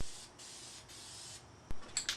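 A spray can lays gray primer onto an old bike frame, giving a steady broad hiss in several bursts with short pauses, then a few sharper clicks and rattles toward the end.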